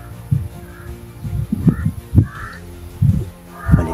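Crows, locally called kadol, circling overhead and giving repeated harsh caws, several loud calls spread across a few seconds outdoors.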